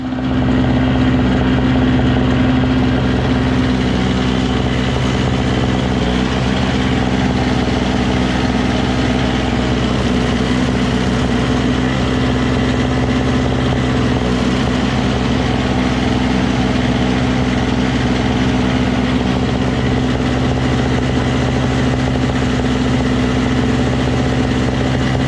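A Toro CR20E single-stage two-stroke snow blower engine runs at a steady, loud idle with a constant buzzing drone, close by and unbroken for the whole stretch, with no voices.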